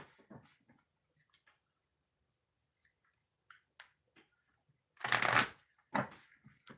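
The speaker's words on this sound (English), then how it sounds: "3 shuffles for the viewers before we do the 6 oracle readings" Oracle cards shuffled by hand in short bursts, quiet riffles and soft flicks with a louder riffle near the end, close and otherwise silent.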